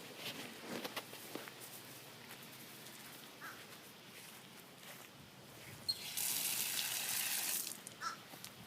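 Water bursts from an outdoor tap or hose during a home inspection near a pool, a steady loud gush starting partway in and lasting about two seconds, preceded by faint footsteps and scattered outdoor noise.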